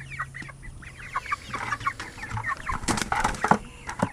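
Several chickens cluck and chatter close by in quick, irregular bursts, with some flapping and scuffling mixed in.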